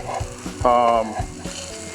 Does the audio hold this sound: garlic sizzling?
yes